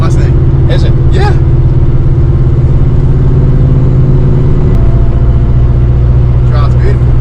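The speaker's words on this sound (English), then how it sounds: "This is my first time driving a Mustang." A fully restored 1989 Ford Mustang GT's engine drones steadily while driving, a low continuous rumble with a slight shift in pitch midway, running under people talking inside the car.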